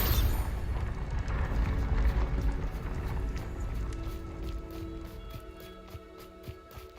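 Bombarda explosion spell cast in Hogwarts Legacy, a deep, rumbling blast that fills the low end loudly at first, then slowly decays into a fading roar with faint clattering debris.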